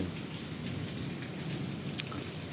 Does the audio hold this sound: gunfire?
no